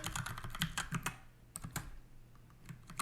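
Typing on a computer keyboard while entering a SQL drop trigger command, a quick run of close key clicks at first that thins out into a few scattered taps.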